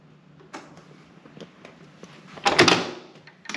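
A hotel room door at a Venice hotel on Murano is opened, giving a few faint clicks and handling taps before a louder latch-and-swing burst near the end, heard alone without talk.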